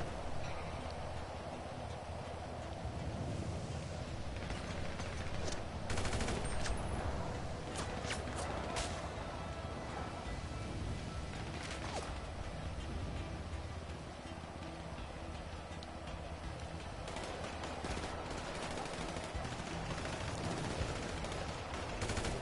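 Scattered gunfire in a GTA video game, distant-sounding shots and bursts repeating through a noisy, steady game soundscape, with little talk.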